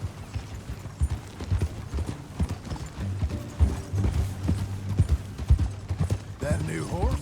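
Horse hooves clip-clop in a steady riding rhythm in the video game Red Dead Redemption 2, close and prominent throughout, with occasional creaks of tack and a brief snort or rustle near the end.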